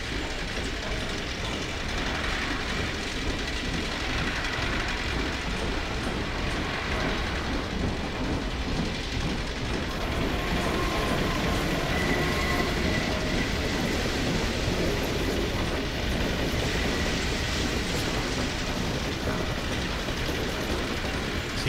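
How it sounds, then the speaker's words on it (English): A train passes through a building in the video game Half-Life 2 MMod: continuous rumbling rail noise with metallic clatter, steady and moderately loud throughout, with no talk over it. "This place is so big that they have trains going through it."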